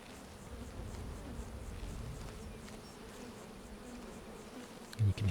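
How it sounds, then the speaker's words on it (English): Soft, continuous buzzing of a swarm of bees behind a fence in Skyrim, a low droning hum that stays steady and fairly faint before a brief louder thump near the end. "you can hear the bees on the other side of this fence"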